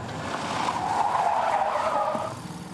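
A car on a driving course skids as its lightened front end loses grip and the car spins, a sustained loud tire squeal with engine noise that swells and then fades near the end.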